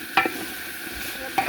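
A spoon stirs a spice masala frying with water in a pot, with a constant sizzling hiss and two distinct scraping strokes, one near the start and one near the end.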